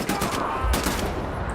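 Rapid, loud gunfire from the video game Wolfenstein: The New Order fills the moment as a German officer is shot, a dense burst of cracks and booms up close.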